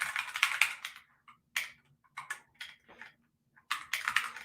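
Someone types on a computer keyboard in a quiet room. The keys clatter in short, close bursts separated by brief pauses.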